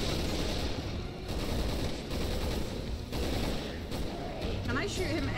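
Gunfire in a Resident Evil co-op game: dense, continuous shooting and combat noise at steady loudness, with a player's voice briefly heard toward the end.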